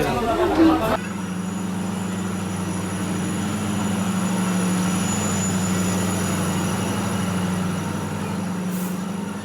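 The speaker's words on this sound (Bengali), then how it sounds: "এখন তিনটা পাঁচে ট্রেন ঢুকছে" A train pulling into a railway station, a steady low rumble of carriages and wheels holding throughout, with a brief burst of nearby voices and noise at the start.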